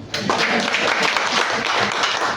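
A burst of applause from a church congregation during a sermon starts abruptly and holds steady, dense clapping with a few voices underneath, fairly loud throughout.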